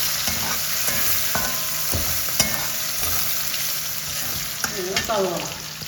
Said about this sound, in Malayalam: നെക്സ്റ്റ് പച്ചമുളക് ഇട്ടിട്ടുണ്ട്. നന്നായി ഇളക്കി കൊടുക്കാം കേട്ടോ